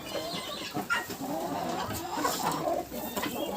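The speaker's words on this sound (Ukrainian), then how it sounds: "Це півник із посилки такий хлопець, забайдистий." Rooster and hens clucking in a backyard flock in the Kyiv region, a steady busy chatter of calls and short clucks close by over continuous outdoor background, with no talk.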